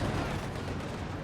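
In Company of Heroes 2, a 4v4 match on the Lorch Assault map, anti-tank grenades explode with a dense, rumbling burst of blasts that fills the whole short moment loudly, with no voices.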